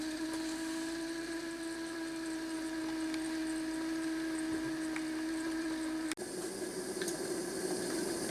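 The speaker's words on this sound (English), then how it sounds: "So that one there is boiling in just a matter of minutes." Water heats toward a boil on a collapsible stainless steel multi-fuel wood and spirit stove, a steady rushing hiss with a constant tonal hum, briefly cut by a sharp click partway through before continuing.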